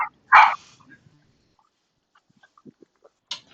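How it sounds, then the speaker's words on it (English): Two or three sharp dog barks from household dogs, one loud burst near the start and another near the end, with faint scattered yips and small noises between them indoors. "There's dogs."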